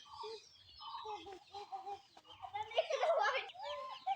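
Chickens cluck in short repeated calls around a farmyard with goats and a small lychee tree, growing busier toward the end, while people talk nearby.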